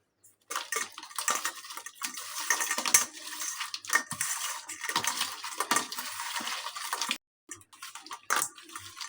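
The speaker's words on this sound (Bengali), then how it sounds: "তারপরে তেল দিয়ে ভালোভাবে মেখে নিব।" Raw crab is mixed by hand with salt and oil in a bowl, making a busy run of wet squelching, rustling and clicking of shells. The noise pauses briefly, then a few more squishy strokes follow.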